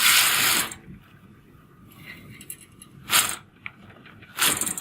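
A knitting machine carriage slides across the beds knitting rows, with loud mechanical sweeps at the start, around three seconds and at the end, separated by quiet gaps.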